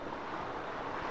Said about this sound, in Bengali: গুহায় অবিরত পানি পড়তেছে।